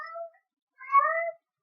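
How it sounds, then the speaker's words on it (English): A small cat meows twice indoors, a short cry followed by a longer, louder drawn-out meow, close to the listener and clear against silence. "You're hearing Laylee. She's another small cat we have"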